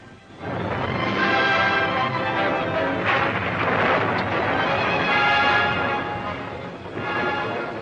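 A thunderstorm rumbles and roars in a 1941 aviation serial, with loud sustained broadband crashes and rolling bursts that swell and fade continuously throughout, without any talk over them.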